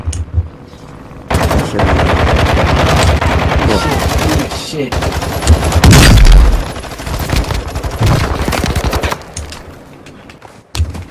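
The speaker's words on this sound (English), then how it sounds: "What are you shooting at?" Rapid automatic gunfire rattles in Warzone 2, long loud bursts of close machine-gun shots with a heavier blast midway, while players talk and shout over the shooting.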